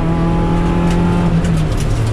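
Over thirty Mazda MX-5 Cup race cars surge off the start together at Ring Knutstorp in 2019, a loud, dense roar of engines accelerating continuously and close by.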